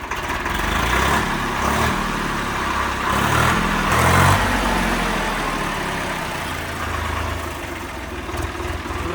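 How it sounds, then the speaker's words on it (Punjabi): A Swaraj 855 tractor engine runs steadily at idle throughout, a continuous low rumble with a brief rise in loudness partway through, heard alone without voices. "ਟਰੈਕਟਰ ਦੀ ਲੋ ਜੀ ਸਟਾਰਟਿੰਗ ਕਰੋ ਬਾਈ"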